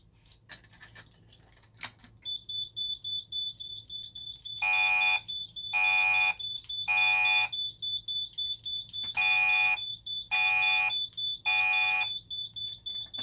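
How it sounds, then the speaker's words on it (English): A Simplex 3001 fire alarm sounds during a test, pulsing in six loud, steady tone bursts after a few jangling key clicks, close and dominant with no talk over it. "The fire alarm has been activated. Please evacuate the building."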